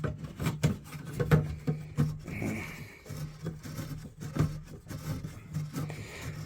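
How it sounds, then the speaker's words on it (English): Sandpaper rubbed back and forth over a pipe near a new compression washing machine valve, a series of close, rhythmic rasping strokes with short pauses between them and no talking. "And just rub some sandpaper underneath it, or over that."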